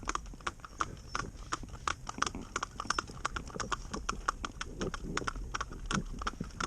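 Hooves of a pair of Shetland mare ponies clip-clop in a quick, steady rhythm as they are driven bitless and blinkerless, close and clear, with no talk over the footfalls.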